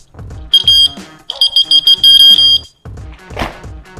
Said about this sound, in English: decibel alarm. So if the bike shakes too much or someone's trying to take it, it will go off